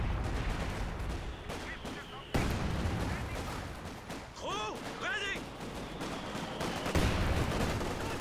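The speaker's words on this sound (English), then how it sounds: "The high-yield explosive barrage being called on in from the mortar pit now" A high-explosive mortar barrage in the WWII strategy game Company of Heroes 2, with repeated blasts and gunfire sounding through a busy battle mix, loud and layered with some sharp whistling streaks.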